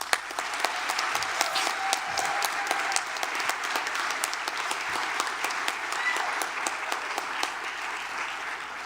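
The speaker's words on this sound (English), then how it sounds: "Let's give them a rousing round of applause." Audience at a regional educators awards and scholarship ceremony gives a sustained round of applause for the nominees, dense even clapping filling the room for about nine seconds before tapering slightly at the end.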